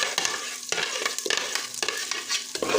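Blended onion, tomato and spice paste stirred as it fries in a pot for paya: a steady broadband sizzle broken by several scraping stirs, close and moderately loud, with no talk.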